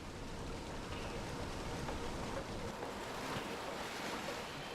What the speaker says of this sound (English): When winter storms produce unusually high snowfall, the heavy spring runoff creates surging floodwaters.